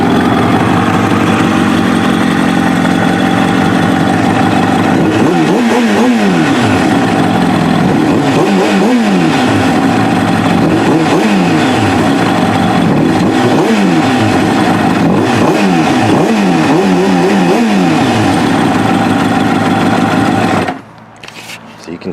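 Kawasaki ZX7R motorcycle engine with FCR41 flatslide carburetors warming up, a loud steady idle broken by repeated throttle blips that rev up and fall back, close by, ending abruptly.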